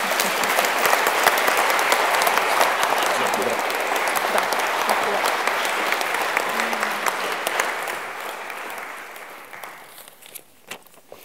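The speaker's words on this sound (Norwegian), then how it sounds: "Skal vi først klappe for dere to" Sustained audience applause at a commemoration event, dense and steady for most of the clip before thinning out and fading toward the end.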